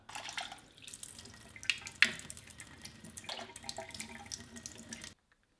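Sushi rice is washed by hand in a small bowl of cloudy water, with steady sloshing, swishing and trickling splashes and a few brighter drips, close and fairly quiet, before the sound cuts off abruptly.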